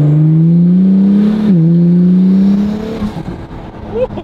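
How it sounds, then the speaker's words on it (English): An Acura NSX fitted with upgraded Pure 900 turbos accelerates hard, its loud engine drone rising steadily with a brief dip near the middle, then fading into quieter road noise with voices toward the end. "you can hear the turbos a little bit more than you would on the stock car"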